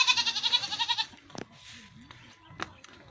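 Goats on a goat farm in Assam give a loud, close, wavering bleat at the start, followed by quieter shuffling and a couple of sharp knocks.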